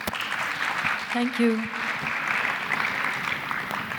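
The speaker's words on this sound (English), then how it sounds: "please welcome them with a large round of applause" Steady audience applause welcoming a panel of writers at a literary session on the birth of a novel, a sustained wash of clapping with a brief spoken thanks over it.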